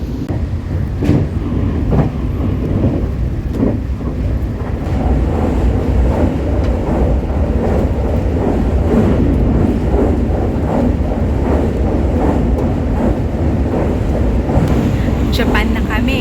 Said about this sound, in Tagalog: So currently, nasa train kami going to Namba station